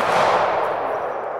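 A single loud, close gunshot during a close retention shooting drill at a 2019 Nashville, Tennessee training session, its sharp report ringing out and fading over a second with no talking.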